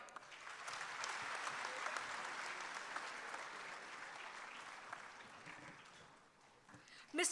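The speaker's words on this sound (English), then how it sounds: "A huge round of applause for Mr." A large audience claps steadily for several seconds at a formal ceremony, the applause fading somewhat toward the end before a brief louder sound.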